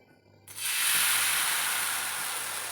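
A sudden loud, steady hiss bursts in and holds, a bright close-up sizzle of adai batter hitting a hot griddle, with no talking.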